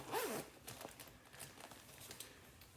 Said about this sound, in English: that also has a zipper on the bottom that you can zip it